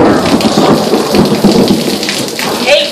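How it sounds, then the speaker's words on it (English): Heavy rain pours steadily in the desert, a dense close hiss with rumbling thunder rolling underneath throughout, loud and continuous without voices. "it is raining hard"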